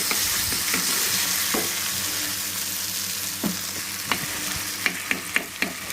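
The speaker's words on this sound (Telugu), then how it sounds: "ఈ దీంట్లోనే ఆయిల్లో మనం చేసుకున్న పేస్ట్ని ఇలా యాడ్ చేసుకోవాలి" Roasted peanut paste sizzles loudly in hot oil over tempering seeds for a Telugu palli pachi pulusu, a continuous close frying hiss with sharp crackles and pops growing more frequent toward the end, no voices.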